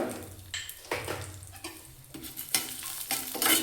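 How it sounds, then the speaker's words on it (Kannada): Cumin, chana dal, urad dal, coriander seeds and fenugreek roast in hot oil for radish sambar, giving a steady close sizzle broken by repeated scraping stir strokes. No one speaks. "ಜೀರಿಗೆ, ಕಡಲೆಬೇಳೆ, ಹಾಗೆ ಉದ್ದಿನಬೇಳೆ, ಧನಿಯಾ, ಮೆಂತ್ಯನ ಸೇರಿಸಿ ಚೆನ್ನಾಗಿ ಹುರ್ಕೊಳ್ಳೋಣ"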